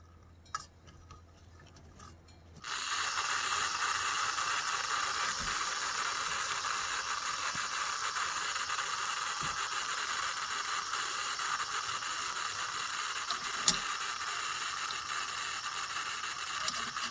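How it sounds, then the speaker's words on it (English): A budget white gas camp stove hisses steadily after a quiet start in -40F cold, a constant broadband rush with a few faint clicks. "turn this little knob down, and you'll be hearing it hiss a little bit"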